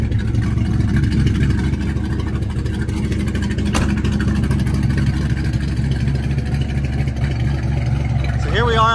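A fuel-injected 1958 Plymouth Fury engine idles steadily in startup mode, a continuous low, even rumble with a constant tone that holds for the whole stretch, close by and fairly loud.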